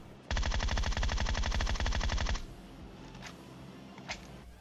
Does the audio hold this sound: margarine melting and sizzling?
no